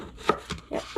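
A sharp Nakano knife saws through a loaf of stale bread, giving several close, crisp crunching strokes in quick succession.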